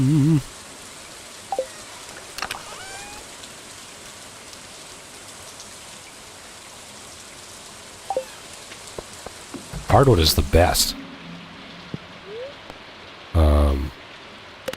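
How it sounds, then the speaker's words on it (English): Steady rain patters continuously in a farming video game as a soft, even hiss, while a player speaks briefly and other short game sounds pop up now and then. "And we're gonna get more rain sounds."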